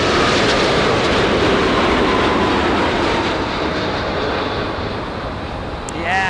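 A KLM airliner at LAX produces a loud, broad engine roar that slowly eases off, and a voice briefly speaks near the end.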